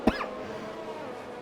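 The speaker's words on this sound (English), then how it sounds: "I do have a bit of a cough, so that's why I'm coughing a little bit" A man with a slight cough lets out two short, sharp coughs, one right at the start and another at the end, close to the microphone with near silence between them.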